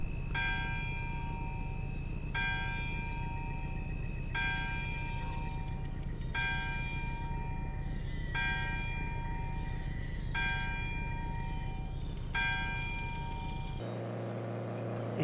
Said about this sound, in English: the church bell starts ringing